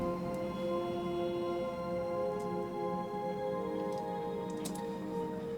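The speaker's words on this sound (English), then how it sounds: "The first few things I added is more ambience pads," A soft, steady synth pad holds sustained chords throughout, with faint clicking textures scattered on top, quiet and even.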